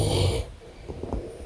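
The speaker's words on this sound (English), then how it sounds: "I snore." A person snoring while asleep overnight, one loud rough snore up front followed by softer breathy snorts, close and alone with no talk.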